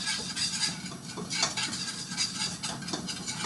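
Spoon stirring in a pot, with repeated close metallic scraping and clinking in an uneven rhythm, no voices.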